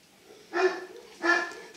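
Dogs at a Central Asian Shepherd kennel in Japan give two separate, mid-distance barks about half a second apart over a quiet background.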